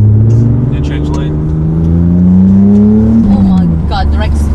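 A V6-swapped Toyota MR2 accelerates hard during a lane change, its engine note climbing steadily and then dropping, loud and close inside the cabin, with people talking over it.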